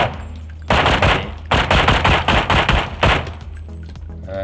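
Loud bursts of rapid automatic video game gunfire heard through a JBL Quantum gaming headset, in three long volleys separated by brief pauses, close and punchy, with no talking.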